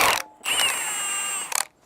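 A ratchet wrench works a 14 mm bolt loose during a Toyota 2JZ engine bottom-end teardown, giving a close, sustained metallic ratcheting whir of about a second with a tonal ring, plus a few sharp clicks at the end and no talk.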